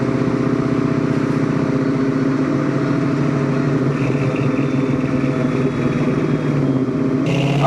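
A 1966 Ford Mustang Fastback with a 302 V8 and T5 gearbox rumbles along on a test drive over a bumpy road, a steady low engine drone heard continuously from inside the car, with no talk.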